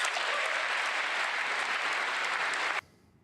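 Dense, steady applause from an audience of Republicans standing during a political speech, sustained at full strength before cutting off abruptly into near silence.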